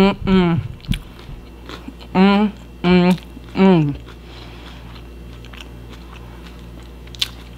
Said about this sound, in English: Can you guys hear that crunch?